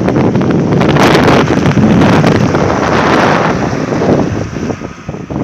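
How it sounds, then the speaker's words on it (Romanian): Strong gusts of wind roar across the snowy mountain ridge near Rânca on the DN67C road, sweeping snow along in a loud, continuous blast of buffeting that eases slightly toward the end, with no voices. "rafalele de vânt împrăștie zăpada"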